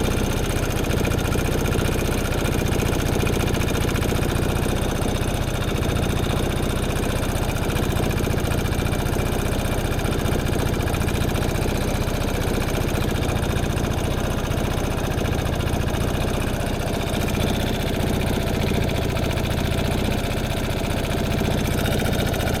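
A 2014–17 Piaggio Fly 150 3V ie scooter engine idles steadily at close range, a loud, continuous mid-pitched putter with a slight vibration, and no talking.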